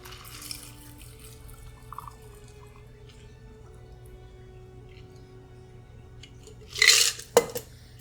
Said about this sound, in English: Strain this over ice.